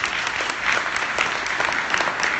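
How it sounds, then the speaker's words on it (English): Audience at a community college leadership conference applauding, a steady dense patter of many hands clapping, moderately loud, with no speech over it. "the applause started over there where the Bronx Community College president is sitting"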